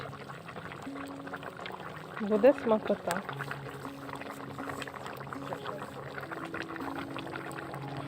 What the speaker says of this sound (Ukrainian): Так же ж душевно вона булькає, так гарно кипить